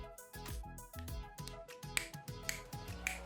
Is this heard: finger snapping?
yes